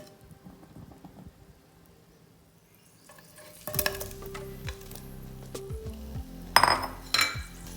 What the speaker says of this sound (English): Ensure that you gently saute them.